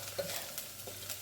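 Curry powder and turmeric stirred into a pot for coconut curry lentils with spinach, a soft sizzle with light scraping strokes, quiet and close, no voices.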